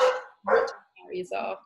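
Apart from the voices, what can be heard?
dog barking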